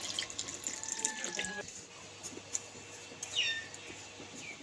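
Kitchen tap water running and splashing while mangoes are washed in a sink, an irregular stream with drips and clatter that eases off partway, fairly close, with a little talk.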